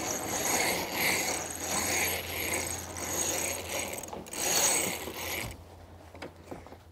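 A jib furling drum turns aboard a sailboat as the sail unfurls, giving a close, rapid ratcheting clatter with a whirring texture that rises and falls in waves before cutting off near the end.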